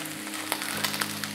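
Pan-fried potatoes cooking extra crispy sizzle close by in a hot pan, a steady crackling hiss with small pops scattered through it and no voices.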